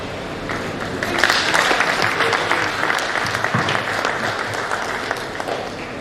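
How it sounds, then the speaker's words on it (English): Audience members at a second anniversary conference applaud in a steady round of moderately loud clapping that swells slightly after the first second and continues to the end. "there would be a bigger round of applause."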